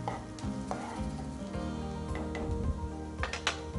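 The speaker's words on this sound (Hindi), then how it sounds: "अच्छी तरह से चलाएंगे। अब वेजिटेबल डालेंगे।" Vegetables for hot and sour soup sizzle in a hot pan, a close continuous frying hiss punctuated by repeated spatula clanks and stirring scrapes, with no voices.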